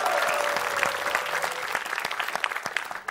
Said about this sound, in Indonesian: Tepuk tangan yang meriah untuk Meisya Siregar.